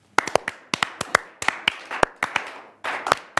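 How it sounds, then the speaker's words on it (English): A small studio group clapping for a round of applause on a South African talk show, sharp distinct claps in loose irregular bursts, close and dry, briefly pausing before a final flurry. "Or a round of applause."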